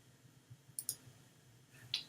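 Two quick computer mouse clicks arrive close together, followed by a single sharper click a moment later, all close and crisp over a faint low hum.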